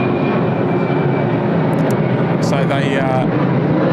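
Airliner taxiing at Sydney Airport near taxiway Alpha, including a China Eastern jet, heard as a loud constant engine roar with someone talking over it.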